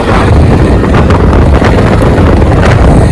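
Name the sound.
strong wind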